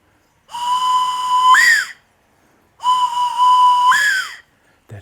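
Two long, steady shrill blasts on a bone whistle, each ending in a rising, wavering screech imitating a raptor such as an eagle, with a pause between them.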